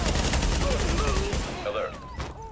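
Gunfire in Tom Clancy's The Division: a dense burst of rapid shots rings out loud and close across the first half, then tapers as voices and radio chatter carry over the top.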